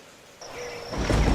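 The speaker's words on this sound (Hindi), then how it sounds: "आज तो बारिश और हवा और तेज़ है।" Heavy rain with rising wind noise in a stormy setting, starting faint and thin, then swelling into a loud broadband roar of downpour and gusts toward the end, with no voices.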